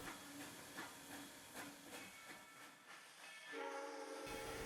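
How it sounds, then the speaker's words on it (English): Texas State Railroad locomotive number 300 running on a track wye near the Rusk depot, a steady distant rumble with hissing and a faint continuous tone, fairly quiet. "Here we see TSR number 300 beginning a trip around the Y."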